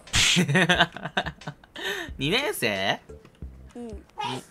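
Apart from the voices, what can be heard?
sneeze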